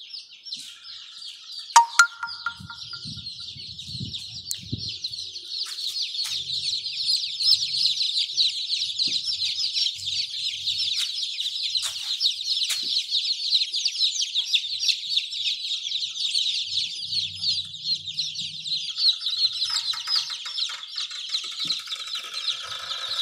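Goliath chicken chicks being placed into a pen, a constant chorus of high shrill peeping close by, with brief handling knocks early on and no talk.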